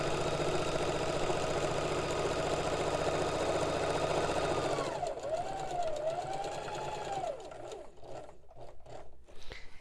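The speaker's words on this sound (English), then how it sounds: "just sew a straight line all the way down to the end." Sewing machine stitching a straight line on tablecloth material, a loud close steady whirring drone that slows and winds down midway into uneven mechanical clicks and whines.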